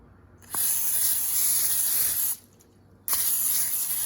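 Cooking spray hissing onto a baking tray in two bursts, first a long hiss of almost two seconds, then after a short pause a second hiss, both close and steady.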